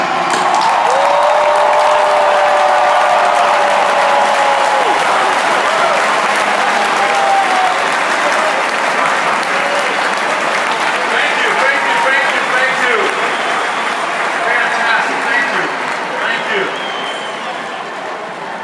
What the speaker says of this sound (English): give him the loudest round of applause that you can